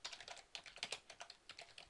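Quick, light keystrokes on a computer keyboard, a rapid irregular run of close, quiet clicks with no voices.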